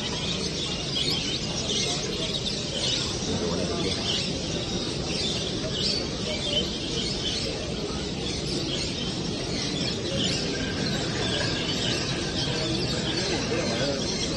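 Goldfinch hybrid songbirds sing at an ornithology bird show in Naples, a dense, steady mass of overlapping chirps and song filling the hall throughout.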